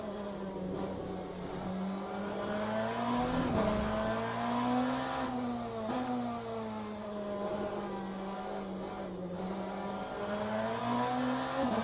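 A WEC hypercar at the Fuji circuit drones steadily through the whole stretch, its engine pitch rising and falling with gear changes and corners. The sound is continuous and moderately loud, with no speech.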